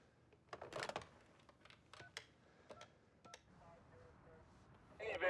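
A telephone keypad being dialed in a tense bank-robbery hostage scene, a quick series of close, sharp tone beeps spaced irregularly over a few seconds with a quiet room background.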